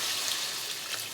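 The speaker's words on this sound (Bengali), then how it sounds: "ঠিক আছে, জল দিয়ে দিলাম।" Water pours into a pot of chicken curry, a brief soft rush and splash lasting about a second, close and fairly quiet, with no voices.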